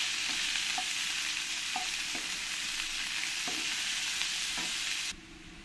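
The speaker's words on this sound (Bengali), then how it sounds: "পেঁয়াজগুলো দিয়ে দেবো। দিয়ে ভালো করে একটু লাল লাল করে পেঁয়াজগুলো ভেজে নেব।" Onions fry in a pan with a steady, loud sizzle, and a spoon stirs them with soft scraping taps. The frying runs unbroken and close, then drops in level near the end. There is no talk.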